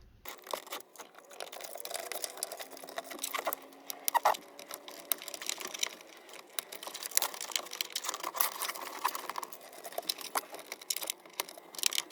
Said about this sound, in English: And I'm going to use the trim tool that they provided.